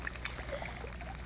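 Water pours into a round fish tank in a steady, quiet trickling stream that runs on without a break.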